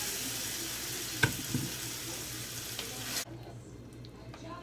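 Sauce poured over sautéed onions in a pan for a vegetarian Mexican dish hisses in a loud, dense sizzle with a few sharp pops. The sizzle drops off abruptly partway through and settles to a quieter simmer.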